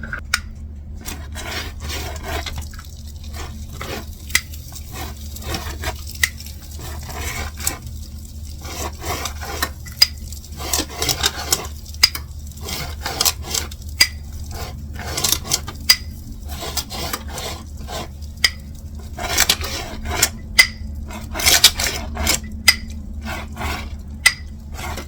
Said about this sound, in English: I'm gonna just brush these with the butter